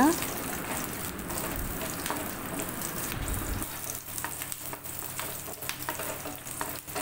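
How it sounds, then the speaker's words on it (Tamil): About fifteen garlic cloves roasting in oil over medium heat for beef sukka make a steady close sizzle and crackle, with occasional stirring scrapes throughout. "ஒரு பதினஞ்சு பல் பூண்டு இதே எண்ணெயில் வந்து நான் மீடியம் ஹீட்டில் வச்சு நல்லா ரோஸ்ட் பண்ணிக்கிறேன்"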